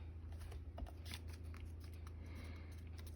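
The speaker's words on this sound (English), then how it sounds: "which I can then do with my scissors" Scissors trimming the top edge of a handmade paper Christmas tag, a soft steady snipping and rustle close by over a constant low background hum.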